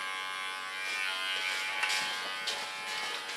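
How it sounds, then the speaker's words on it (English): A small electric hair clipper trims the contour of a red beard in a barbershop, giving a close, steady high-pitched buzz that changes slightly as it moves along the skin. "With a small clipper I clean the contour of his beard."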